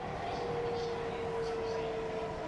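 A Delhi Metro train runs with a steady, moderately quiet rumble inside the car and a thin sustained whine holding across the clip.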